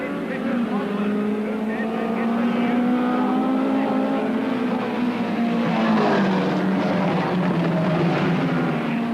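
Saloon cars of the up to 1600cc class roar off the line at the start of a 25-lap race at Brands Hatch during the 1981 British Saloon Car Championship, engines climbing in pitch together, with commentary voiced over the din.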